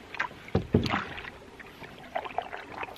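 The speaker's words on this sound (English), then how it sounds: "I'm just going to have to do a bit of paddling." A paddle strokes through the water of Ullswater lake in the Lake District beside an Old Town Pack canoe, two close splashy dips near the start, then softer water sounds and light rippling.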